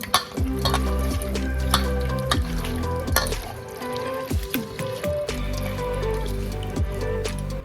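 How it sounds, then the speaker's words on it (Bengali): Chicken is worked by hand with spices, sugar and lime juice, producing close, wet squelching and slapping squishes in an irregular rhythm throughout, with a low steady hum underneath. "হাতের সাহায্যে খুব ভালো করে মাংসটাকে ম্যারিনেট করে নিলাম।"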